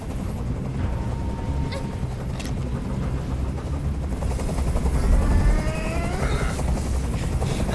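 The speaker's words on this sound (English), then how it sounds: "Tell that helicopter to get out of here!" A helicopter hovers in Detroit: Become Human, its steady heavy rotor chop loud and close throughout, swelling slightly midway, with higher whines and tones layered over it.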